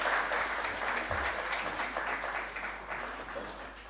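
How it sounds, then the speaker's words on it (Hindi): An audience applauds for Kiran Khan at a speech event, sustained crowd clapping that fades slightly over a few seconds, with some voices mixed in. "आप तालियां बजाएं"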